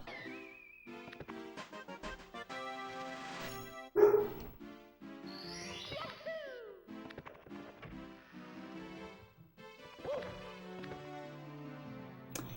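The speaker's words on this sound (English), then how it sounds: "You hear dog barking." A dog barks a few times in sharp bursts, with one loud bark standing out, mixed among other busy indoor sounds.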